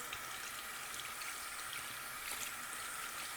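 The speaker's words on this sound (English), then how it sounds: "Okay, I'm gonna rinse it off. This is lukewarm water" Lukewarm tap water runs steadily over a 1980s plastic G1 My Little Pony toy as it is rinsed, giving a faint, continuous splashing hiss with no talking.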